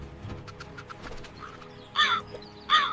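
A crow caws twice in harsh, loud bursts near the end, standing out over a faint outdoor background with scattered softer chirps earlier.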